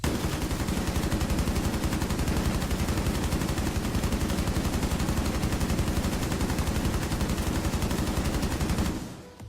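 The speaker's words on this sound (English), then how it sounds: "So right now I'm going to show you the LMG with a full mag" Fuze's LMG in a video game emptying a full magazine, a relentless rapid stream of loud, evenly spaced gunshots for about nine seconds before cutting off abruptly.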